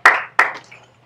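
Two sharp hand claps in a classroom during a physics lesson, loud and close, each ringing briefly before fading, with a fainter third tap after.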